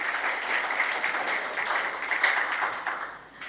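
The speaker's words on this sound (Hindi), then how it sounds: "एक बार ताली बजाइए हरीश जी के लिए" An audience at a spiritual talk breaks into applause, a dense, steady patter of many hands clapping close by that holds strong and then tapers slightly at the end.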